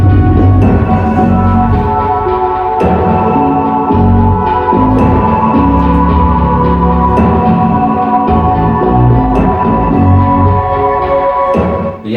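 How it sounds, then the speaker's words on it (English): Layered FM8 software synth parts in a dense electronic beat, with sustained harmonic pads and leads over steady low rhythmic hits, loud and continuous throughout without speech. "I've added some extra synths in there. This time FM8 again."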